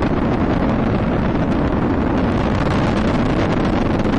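A steady, broadband rocket roar fills the whole stretch as Space Shuttle Discovery's engines thunder during ascent on the STS-116 launch, December 2006, loud and unbroken like distant engines.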